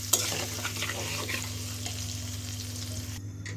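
Potatoes fry in oil in a wok, a continuous crackling sizzle with scattered pops and a steady low hum underneath, close and alone, cutting off abruptly near the end.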